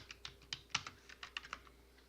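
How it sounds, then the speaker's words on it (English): Quick, light clicking of keys on a computer keyboard, a short burst of irregular taps close by in a quiet room. "So just type in song lyrics,"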